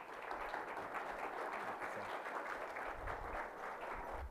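An audience applauds to welcome Dr. Kim Budil on the UC Davis campus, steady sustained clapping from a hall crowd, soft and even throughout.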